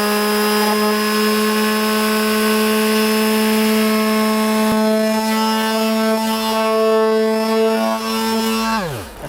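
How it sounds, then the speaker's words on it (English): A Makita detail sander with a fresh abrasive disc works on wood, giving a loud, steady high-pitched motor whine with layered tones that holds for several seconds and then winds down at the end. No voices are heard. "we'll bung on a new abrasive disc and get to it."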